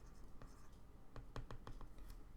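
Marker or chalk strokes on a classroom board while writing out a polynomial, a run of short scratchy strokes clustered in the middle, faint and close with a low room hum.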